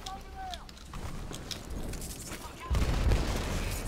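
Rapid gunfire in the video game Titanfall 2, rattling in dense bursts with a heavier boom near the end, while a player talks over it.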